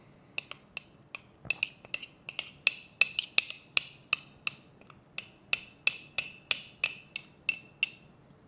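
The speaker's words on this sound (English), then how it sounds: "scrape it down off the sides" A utensil scrapes sourdough starter down the inside walls of a glass jar, making quick, bright clinks and scrapes. They repeat in an uneven rhythm, close and fairly quiet against a hushed background.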